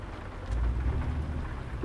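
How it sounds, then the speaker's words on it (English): Rain falls in the trucking game American Truck Simulator, a soft, steady patter with a low rumble underneath, heard alone for a couple of seconds. "this rain is annoying"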